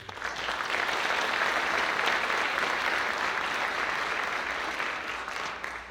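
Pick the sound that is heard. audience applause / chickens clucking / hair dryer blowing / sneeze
audience applause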